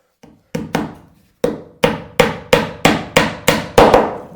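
A hammer drives a nail into a wooden boat hull plank in a steady series of sharp, ringing blows, about ten in all, growing slightly louder and closer together toward the end.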